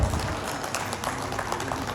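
An audience at an MSME business programme in Kolkata claps, a dense, fairly loud burst of applause with low rumbling room noise underneath.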